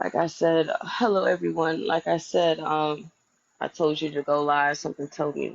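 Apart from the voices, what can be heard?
None of the usual background noises is heard.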